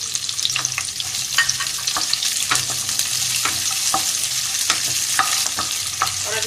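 Chopped onion and capsicum hiss and sizzle in hot oil in a pan with browned garlic, with steady crackling and repeated scraping stir strokes running throughout, close and fairly loud.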